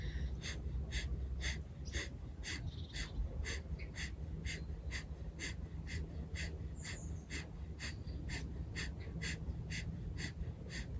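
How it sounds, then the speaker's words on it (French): Slow, deep breathing during a yoga session, a soft, continuous airy hiss under a faint repeating high tick, quiet and close with no talk. "Encore quelques respirations."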